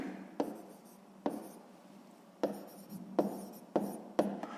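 Pen or pencil on paper writing out a math answer: quiet scratchy strokes broken by six sharp taps, close and alone.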